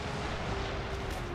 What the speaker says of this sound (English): the enemy cannons have opened fire on the fort, trying to break in with firepower